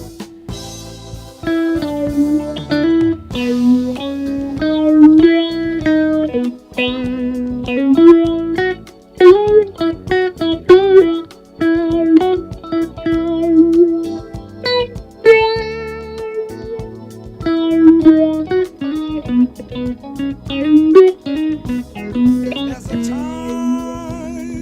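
A solo electric guitar line with bent, sustained notes and quick runs, played alone with a slightly overdriven, effected tone.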